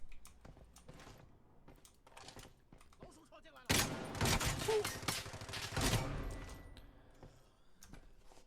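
Gunfire in the shooter game Lost Light: a sudden loud stretch of rapid automatic fire bursts erupts mid-clip and lasts a couple of seconds, framed by quieter clicks and scattered taps before and after.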